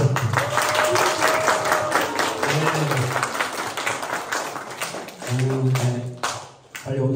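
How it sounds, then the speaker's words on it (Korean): Applause breaks out at a church youth winter retreat evening revival service, a dense, sustained clapping from a gathered congregation that fills the room, with a few voices and some musical tones underneath. "우리 박수 한번."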